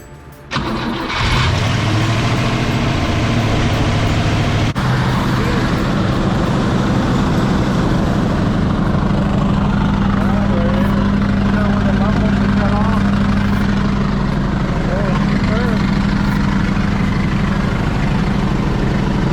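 A Cadillac engine with a freshly repaired fuel pump cranks and catches, then settles into a loud, steady idle close by, its rumble continuing unbroken with a heavy low hum.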